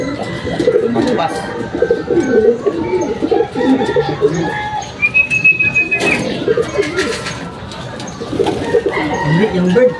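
Racing pigeons cooing at a loft, with low murmuring coos throughout and a brief whistle-like call partway through, close and steady under loft ambience with occasional chicken-like calls.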